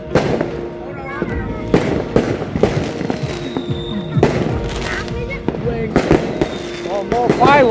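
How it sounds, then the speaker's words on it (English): New Year fireworks burst in rapid, overlapping cracks and booms with rising whistles, loud and close throughout. "Oh, more fireworks, boys."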